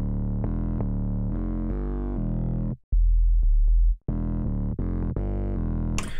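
A deep, buzzing 808 bass made in the Serum synth plays a series of sustained notes with gritty overdrive distortion, loud and alone, briefly dropping to a cleaner low boom.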